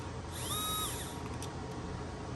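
A Defiant electronic door lock's motor drives the bolt to learn the door's orientation, giving a short, fairly loud whirring buzz that rises and falls over about half a second amid faint background noise.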